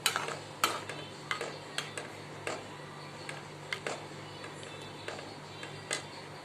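Cooked dal stirred into simmering mutton dalcha, a spoon clinking and scraping against the pot in irregular taps every half second or so over a soft bubbling hiss, close and fairly quiet.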